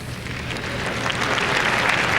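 A large crowd applauds at the 1994 FIFA World Cup draw for USA '94, steady dense clapping that swells slightly louder toward the end, heard alone without speech.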